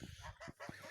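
Several Landes geese honk in short, repeated bursts, fairly close and loud, overlapping one another with a noisy barnyard background.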